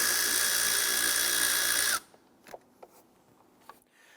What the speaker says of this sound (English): We're going to use our 5/16 socket. Loosen and remove that.